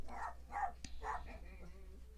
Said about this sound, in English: Sorry about the dogs barking.